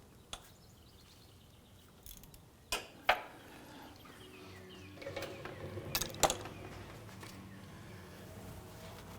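Wrench clicks and metallic taps while loosening a pulley bolt on a 2001–2005 Honda Civic engine during camshaft seal replacement, with a few sharp ratcheting snaps over quiet workshop ambience.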